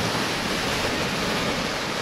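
Stormy sea surf breaks on a Crimean beach at Parkovoe, a loud, dense, continuous wash of churning waves mixed with wind buffeting the microphone, with no voices.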